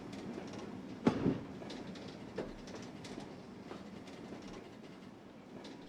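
A diesel EE Type 3B locomotive rumbles along the line in Train Simulator, with low steady running noise and a few faint clicks of wheels over rail joints, no talk.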